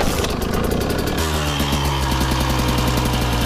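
A motorcycle engine runs loud and close, idling with a steady rough putter that shifts to a lower, throbbing rhythm partway through, with no voices.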